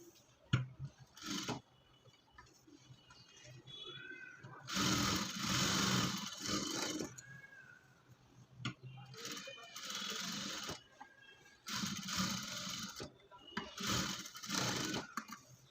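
A sewing machine joins a fabric strip onto a blouse in four or five short bursts of stitching, separated by quiet pauses with light handling sounds.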